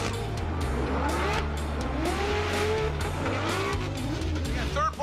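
A NOS Energy Drink Nissan 370Z Formula Drift car on Nexen tires drones loudly through a drift, its engine holding a steady roar while tires squeal and pitch slides up and down, with talk over the top.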